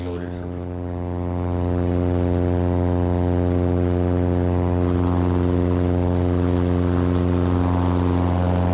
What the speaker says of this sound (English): it will be taking off quicker with a heavily loaded airplane